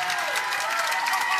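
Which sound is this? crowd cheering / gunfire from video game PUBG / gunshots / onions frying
crowd cheering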